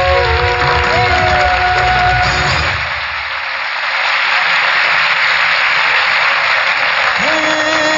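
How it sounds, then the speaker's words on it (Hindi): A crowd applauds loudly and continuously, with some cheering and background music mixed in, briefly easing before swelling again. "तालियां।"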